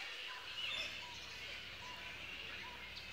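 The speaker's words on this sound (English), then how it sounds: "listen to the birds" Birds call faintly outdoors, with thin chirps and tweets scattered over a soft, airy background.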